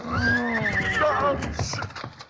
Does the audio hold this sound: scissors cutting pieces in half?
no